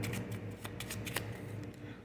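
Rapid riffling of playing cards being shuffled, a quick flurry of soft flicks and snaps, close and fairly quiet.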